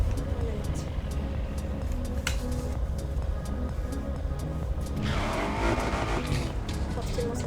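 A race car engine drones steadily in a racing video game played on an Apex racing wheel, with a squeal of tires rising near the end. The whole stretch is a continuous, fairly loud mechanical roar.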